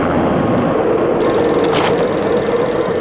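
A telephone rings in the Max Payne video game, a loud continuous electronic ring over dense game ambience and background noise.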